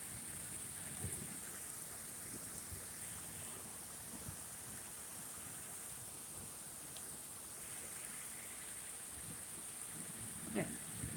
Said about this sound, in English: this thunder doesn't stop, man. You can keep on hearing it constantly